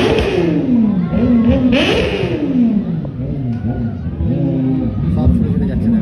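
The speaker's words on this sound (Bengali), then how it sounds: "দেখছো সুপার বাইক কেমন আওয়াজ" Superbikes including a Kawasaki ZX-10R rev and ride past at a roadside riders' meet-up in Arambag, engine pitch rising and falling loudly in repeated close passes, with voices talking over the noise.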